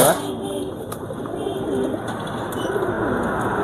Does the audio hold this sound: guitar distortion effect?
no